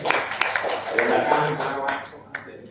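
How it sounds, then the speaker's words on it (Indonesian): A crowd claps together in a steady burst of applause that rises, holds for a couple of seconds, then thins out. "Kita berikan tepuk tangan semua pada kiai-kiai saya."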